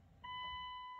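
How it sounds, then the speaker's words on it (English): A 1999 Dodge Durango SLT fuel pump primes after the vehicle sat abandoned for years, starting as a steady, thin electric whine that holds for nearly a second, with no talk. "I think I heard a fuel pump."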